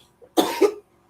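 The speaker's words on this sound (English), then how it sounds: "I have cough" A single close, throaty cough burst, loud and brief, with quiet before and after.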